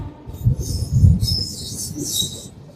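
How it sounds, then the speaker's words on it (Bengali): A Howrah-to-Digha local train rolls along with a low rumbling rattle, and bursts of high metallic wheel squeal come and go above it. "ট্রেন এখন যাচ্ছে আমাদের গন্তব্য অর্থাৎ দীঘার উদ্দেশ্যে"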